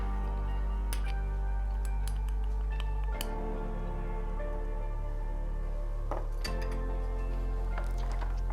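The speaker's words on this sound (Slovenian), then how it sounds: "Zdaj pa vse skupaj premešamo" Oat, protein and banana cookie batter being stirred in a bowl, with light clinking and tapping of a utensil against the bowl in an uneven rhythm, close, over a steady low hum.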